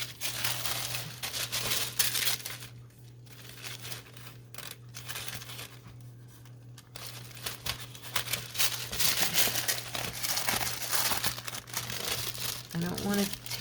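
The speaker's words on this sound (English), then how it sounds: "And then see if I can just tear this down." Tissue paper being torn by hand for a junk journal background: a continuous close crinkling and rustling with bursts of sharper ripping, varying in intensity, while a person talks alongside much of the time.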